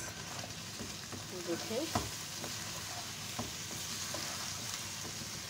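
Chicken for a white karahi, with ground garam masala and dry coriander powder, sizzles in a pan while being stirred, giving a constant close frying hiss with scraping knocks; a single brief word is spoken.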